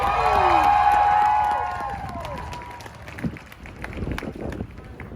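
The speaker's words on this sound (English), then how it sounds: "Round of applause for Mario Mathis." A rally crowd outdoors in the cold in Logan, Utah, applauds and cheers, the clapping loud at first and fading after a couple of seconds into scattered claps, shuffling and low murmuring.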